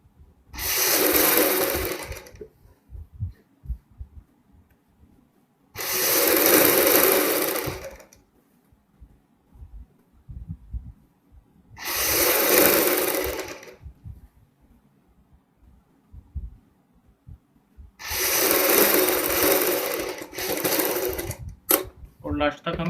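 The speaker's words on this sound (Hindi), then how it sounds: "ये बैन पट्टी की लास्ट सिलाई है दोस्तों।" Electric sewing machine stitching the band strip of a kurti, four loud whirring runs of a few seconds each separated by pauses, the last ending in a short stutter; a voice talks in the gaps.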